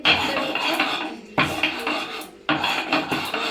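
Cinnamon, cloves and black pepper being ground into a spice paste by hand, rough repeated grinding strokes in three long bursts separated by short pauses, close and fairly loud, with no voices.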